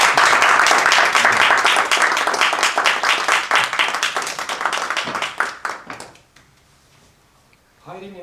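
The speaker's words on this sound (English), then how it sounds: "Let's give him a round of applause." Audience applause for a speaker at a speech event, a dense burst of clapping that holds steady for several seconds, thins into scattered claps, then stops, followed by a brief voice at the end.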